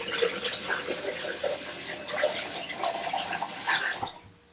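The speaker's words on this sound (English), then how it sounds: "need to fill my water bath machine thing and turn it on so it gets heating so that we can melt things" Tap water runs steadily into a wash tub in a formulation lab, filling a water bath used to heat beakers; a continuous splashing, gushing flow close by, alone, tapering off at the end.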